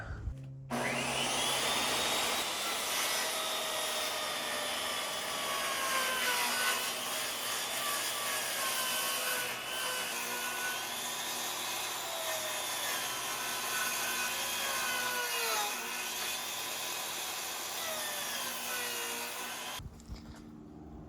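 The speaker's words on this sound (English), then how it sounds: "First step is I'm gonna run these to the table saw." Table saw ripping long wooden planks, about 14 inches wide, in a woodworking shop: a loud continuous whining roar for nearly twenty seconds, the pitch dipping and rising as the blade works through the wood.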